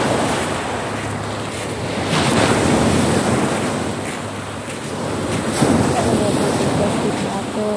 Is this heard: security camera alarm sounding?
no